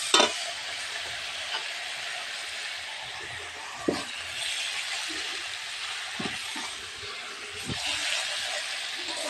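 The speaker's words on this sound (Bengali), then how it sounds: "আলুটা এবার দিয়ে আমি নাড়তে থাকবো।" Potatoes stirred into frying spices in hot oil, a continuous sizzle broken by several sharp spatula scrapes and knocks against the pan at irregular intervals, close and moderately quiet, with no talking.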